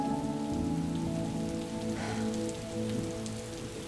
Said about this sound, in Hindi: बारिश का शोर सुन रहे हैं?